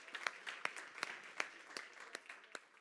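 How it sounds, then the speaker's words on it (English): A handful of separate, evenly spaced claps, roughly one every third of a second, faint and sparse, in applause for VIP judges at a health and wellbeing conference stage. "Can we please give our VIP judges a big round of applause"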